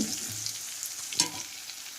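Crushed garlic and ginger fry in a pan for a household mutton curry, a steady close sizzle with brief louder spits and a clatter of stirring near the middle.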